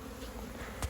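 Honeybees from a newly installed package swarm out in a close, steady buzzing drone, with one brief louder bump near the end and no voices.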